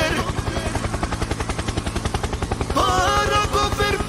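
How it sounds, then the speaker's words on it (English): A helicopter in the video game Decaying Winter gives a loud, fast, rhythmic chopping pulse throughout, with a voice breaking in over the last stretch. "Helicopter, helicopter."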